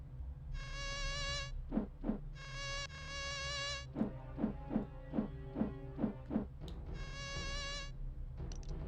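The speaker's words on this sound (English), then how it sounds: "Sound like mosquitoes." A mosquito-like buzzing sound effect from the Philips CD-i game Zelda's Adventure repeats in several high, whining bursts, interleaved with short rhythmic descending zaps over a low background hum.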